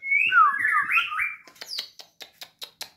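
Magpie-robins (murai batu), males and females kept in cages, give a loud, close whistling song followed by a run of sharp, evenly spaced chirps.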